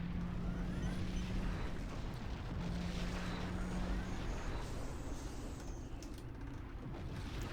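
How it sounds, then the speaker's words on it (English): Explosions from a kamikaze fighter attack in the space combat game Star Trek Legacy rumble in a dense, continuous low roar with muffled blasts, steady at moderate level with no talk. "There is damage from the explosions."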